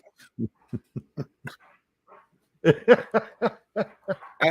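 A dog gives a run of short, sharp barks spaced evenly, pauses, then breaks into a quicker cluster of barks mixed with whimpering yelps, close and fairly loud.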